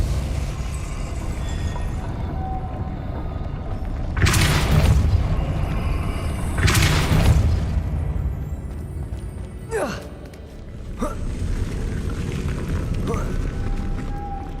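Depulso spell blasts in the game Hogwarts Legacy: two heavy whooshing booms a couple of seconds apart, each swelling and fading over about a second, over a low rumbling background with a few lighter magical zips afterward.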